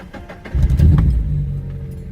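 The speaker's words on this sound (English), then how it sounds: "So I'm gonna start the car up," A Mazda Miata engine cranks and catches, then settles into a loud, steady idle close by, with no talking.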